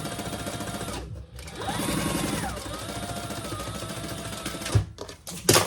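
A sewing machine runs steadily, basting fabric flat for a modified crossbody bag, with a brief pause and a speed-up in the middle before it stops near the end, followed by a few loud clunks.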